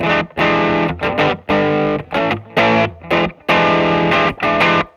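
An electric guitar played through a Walrus Audio Voyager MkII overdrive pedal, with gritty, edge-of-breakup chords strummed in short rhythmic bursts separated by brief gaps.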